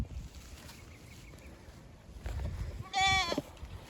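A goat gives a short, wavering bleat near the end, after a stretch of quiet outdoor background noise.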